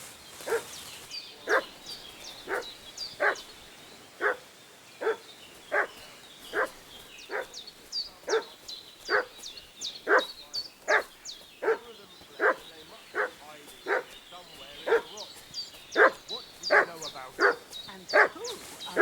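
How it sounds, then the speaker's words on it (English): A dog barks in the video game Kingdom Come Deliverance 2, giving a long series of regular, evenly spaced barks roughly every second, fairly close and clear over a quiet background. "What's that dog making such a fuss about?"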